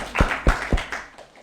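A few sharp, separate hand claps ring out near a children's spelling bee, three distinct smacks in quick succession before the sound thins out and fades.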